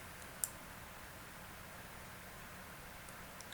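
A single sharp mouse click sounds close and quiet while a text box is selected in Google Slides, followed by a couple of fainter ticks over a soft, steady hiss.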